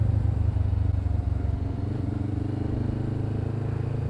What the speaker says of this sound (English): Exhaust sounds really good too.